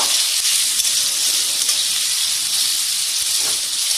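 Egg chowmein noodles stir-frying on medium heat, a loud, even broadband sizzle and hiss that runs unbroken with no voices.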